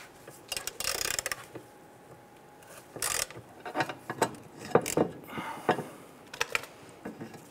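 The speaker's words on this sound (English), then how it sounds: "And let's remove that last bolt." Last bolt being removed from the aluminum transmission mount on a 2005-2010 Chrysler 300, heard as several short metallic ratcheting and clanking bursts with gaps between them, close and moderately loud, with no talk.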